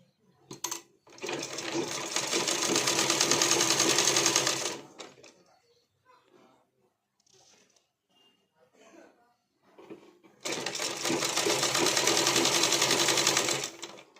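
A sewing machine stitches a blouse in two loud, steady runs, one near the start and one near the end, with a quiet gap between them filled by faint handling sounds.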